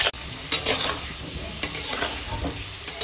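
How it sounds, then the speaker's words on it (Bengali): Potatoes frying in oil in a wok, a steady close sizzle broken by several scraping stirs of a spatula. "আর আগে আলুটা ভেজে নেবো, কড়াই তেল দিয়ে দিয়েছি, আলুগুলো ভেজে নেবো।"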